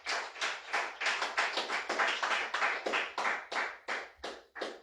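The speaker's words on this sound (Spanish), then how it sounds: "Dale fuerte aplauso al Señor" A church congregation claps together during a sermon, a steady, fairly fast rhythm of loud, close hand claps that carries on for several seconds.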